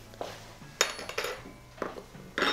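A bowl, fork and spoon clink and clatter as they are set down and handled in a kitchen, several sharp metallic and ceramic knocks close by, with no one speaking.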